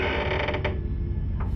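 A door creaks open with a drawn-out, grinding mechanical groan, a few rough pulses near the start and then a steady strain, close and fairly loud over a dense low hum.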